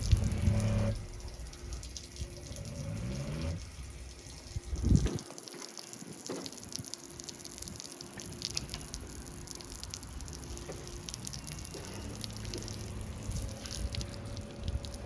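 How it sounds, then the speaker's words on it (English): Water from a pure water window cleaning system splashes and trickles down window glass, a soft, continuous dribbling and spattering with one brief louder gush midway, faint and without talk. "And that's the system for washing the windows down."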